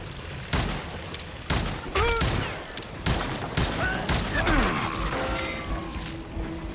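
Gunfire in the Wild West shooter Call of Juarez: Gunslinger; a rapid series of sharp, loud shots and bursts at irregular intervals, mixed with ricochets, shattering debris and battlefield clatter.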